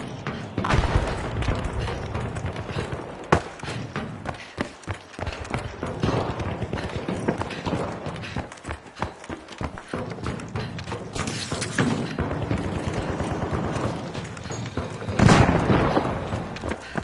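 Rocket launcher blasts in a first-person shooter game, a dense, loud stream of booming explosions and thuds that runs nearly nonstop, with one especially heavy burst late on.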